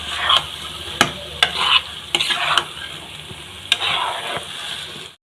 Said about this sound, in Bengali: দিয়ে দিলাম ঢেঁড়সগুলো। নাড়াচাড়া করে নিচ্ছি।